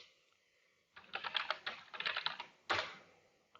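Typing on a computer keyboard: a few faint taps, then from about one second a busy run of close key clicks, a brief pause and one last burst of keystrokes, with no voices.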